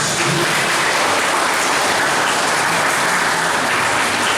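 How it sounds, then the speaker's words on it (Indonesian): Loud, dense applause from a large church congregation at an Easter morning Mass, continuous and even throughout, with no talking heard over it. "Kita beri tepuk tangan untuk mereka."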